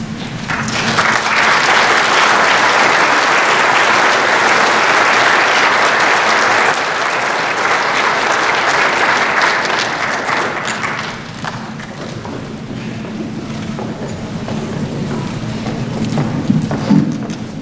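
A large audience at a winter graduation ceremony claps loudly and continuously for the graduates. The applause eases slightly partway through and carries on as a dense, sustained roar of hands, with occasional thumps.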